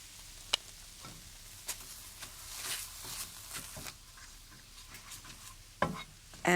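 Curry paste fries in a pan as tomato puree is stirred in, giving a faint, steady sizzle with scattered scraping taps of a utensil against the pan and a couple of sharper knocks.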